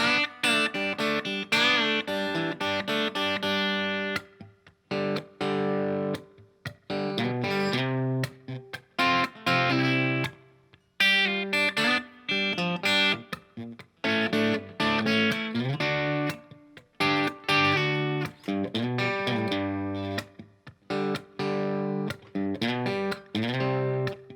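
Electric guitar plays a driving rock verse with bright, slightly overdriven chords and licks in a steady rhythm, close and loud, with brief stops between phrases.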